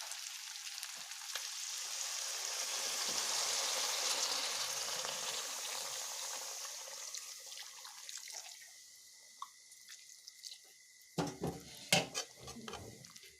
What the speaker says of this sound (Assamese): এতিয়া মই গৰম কৰি থোৱা পানী এড কৰিম।